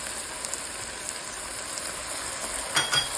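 Shallots, peppers and garlic frying in a pot, giving a steady, soft sizzle throughout with a couple of brief clinks or stirs near the end.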